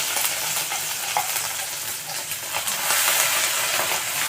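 Cumin and a prepared spice paste sizzle and fry steadily in a pan while being stirred, a continuous bright hiss with faint scraping, for a whole-onion curry.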